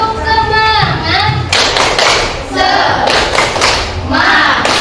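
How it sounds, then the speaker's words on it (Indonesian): Classroom of children doing a rhythmic spirit clap, bursts of sharp claps in patterned groups mixed with children's chanting voices, loud and close. "Tepuk semangat."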